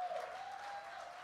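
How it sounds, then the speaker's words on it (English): Church congregation applauding, a short burst of dense clapping that is faint and somewhat distant. "Clap for him as well. Clap better."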